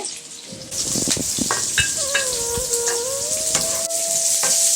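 Onions sauté in a small pan with a steady close sizzle, broken by several sharp spatula scrapes and clicks.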